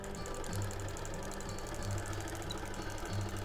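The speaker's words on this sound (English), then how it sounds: "I'm just going to stitch about as far as I can in the throat space of my machine" A longarm quilting machine stitching binding onto a quilt, giving a continuous loud mechanical whir with a rapid even needle rhythm and a low thump recurring every second or so, heard alone.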